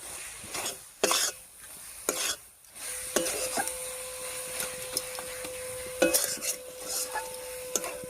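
A spoon stirring a coconut and jaggery filling in a pan, with scraping strokes against the metal and a soft sizzle underneath, the strokes coming in irregular bursts close up.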